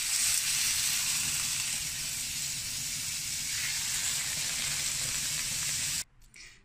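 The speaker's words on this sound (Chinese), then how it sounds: "底部煎至金黄色以后沿锅边加入清水" Water poured around the edge of a hot pan of golden-bottomed dough rolls, producing a steady, fairly quiet hiss and sizzle of steam that runs on evenly and then drops away sharply near the end.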